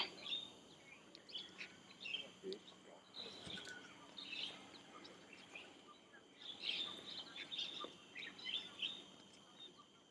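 Birds chirp and sing repeatedly in the bird-watching area of Springleaf Nature Park, Singapore, in bright, overlapping calls over a steady outdoor background, some nearby and others farther off.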